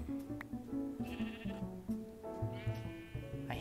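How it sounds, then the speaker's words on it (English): Sheep in the Minecraft video game bleating repeatedly, several overlapping nasal calls in quick succession, fairly close and prominent, with a few soft clicks between them. "Some more sheep right here."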